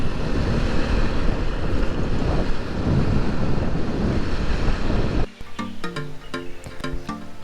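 Ocean waves wash onto the beach near Tenneti Park in Visakhapatnam, a loud, continuous roar of surf mixed with heavy wind buffeting, then music cuts in after about five seconds.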